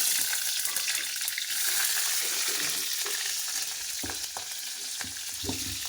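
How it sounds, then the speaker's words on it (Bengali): Black cumin seeds tempering in hot oil in a pan, giving a steady close sizzle that softens slightly, followed by a few clinks and scrapes from stirring near the end, with no talk. "কালো জিরা ফোড়ন দিয়ে দেবো।"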